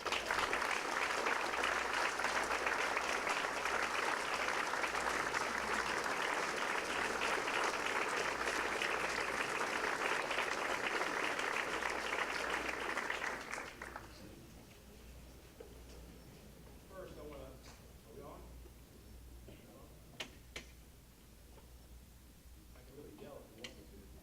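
A ceremony audience at the Fort Jackson Hall of Fame induction breaks into loud, dense applause for Mayor Benjamin for about thirteen seconds. It then fades to scattered sounds, and a voice speaks.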